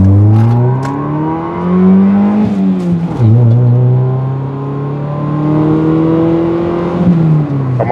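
A Peugeot car engine accelerating on the road, revving up through the gears with rising pitch, short dips at each shift, loud and close, heard from inside the car.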